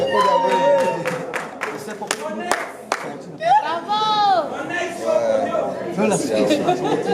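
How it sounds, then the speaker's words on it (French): An audience in a hall at a web awards ceremony applauds in scattered claps, while a loud voice talks over it and crowd chatter continues throughout. "on va encore applaudir très fort dans la salle"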